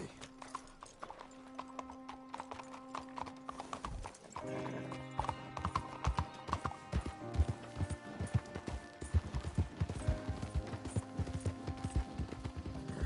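Horse hooves clip-clop in Red Dead Redemption 2 in a steady, quickening rhythm over a soft ambient tone, with a whinny early on; no speech is heard.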